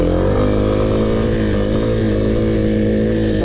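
A Kawasaki KLX300 supermoto motorcycle being ridden, its single-cylinder engine droning loud and close with a steady, slightly rising pitch throughout.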